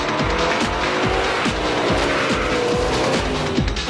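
A 1966 Corvette Stingray with a 427 cubic inch L72 big-block V8 roars loudly and close, revving hard through repeated rising pulls with a steady rhythmic cadence and a touch of tire noise, with no voices.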